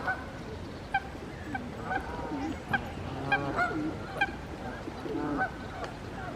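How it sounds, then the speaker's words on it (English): A flock of Canada geese honking repeatedly, many overlapping calls at moderate distance over a constant murmur of outdoor background noise in a park. "Seems like millions of Canada geese."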